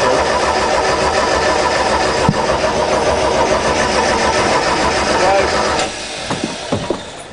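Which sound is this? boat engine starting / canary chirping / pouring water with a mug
boat engine starting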